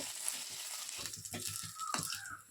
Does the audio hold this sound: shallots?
yes